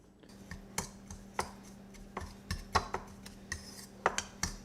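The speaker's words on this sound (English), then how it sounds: "Take a fork and mix this up." A fork ticks and scrapes against a bowl while mixing homemade brown sugar, salt, pepper and ancho chili powder for a BBQ rib rub, an irregular run of light, close clicks.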